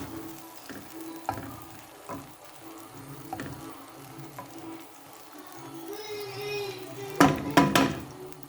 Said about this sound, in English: I'm going to saute this for like a minute.